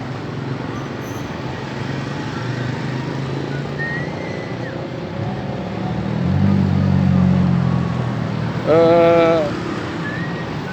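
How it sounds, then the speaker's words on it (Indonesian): Steady roadway noise at a busy street intersection without traffic lights in Pagaralam, with continuous engine drone, a louder passing vehicle midway and a short horn-like honk near the end. "di sini juga tidak terdapat traffic light atau lampu merah, jadi sering terjadi kemacetan"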